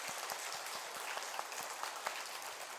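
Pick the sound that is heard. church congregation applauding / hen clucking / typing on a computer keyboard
church congregation applauding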